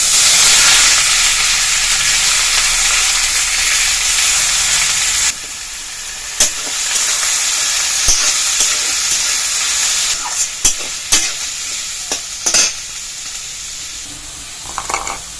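Chopped garlic, onion and green chilies sizzle loudly in hot oil, a dense hiss that drops in level partway through, then continues with sharp clacks and scrapes as a spatula stirs the pan.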